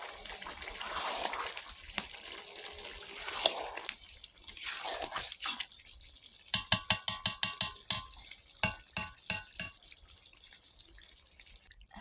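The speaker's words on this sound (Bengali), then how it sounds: "জল ঢেলে দিলাম" Water goes into a pan of cooking meat with a rushing hiss over the sizzle, followed by a run of quick, sharp clinks from stirring against the pan, close by with no voices.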